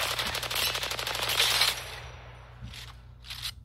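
Rapid, steady automatic fire from an R-301 rifle in a video game, a dense burst lasting about a second and a half before cutting off, followed by a couple of faint softer sounds.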